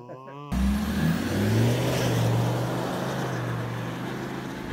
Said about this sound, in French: Bruit de V10 TDI avec une ligne. Straight pipe.